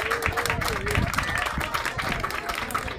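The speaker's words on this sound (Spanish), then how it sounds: "con un aplauso también a recibir" Scattered applause from a crowd at an outdoor ceremony in a town square plaza, moderately loud and continuous, mixed with crowd murmur and voices in the background.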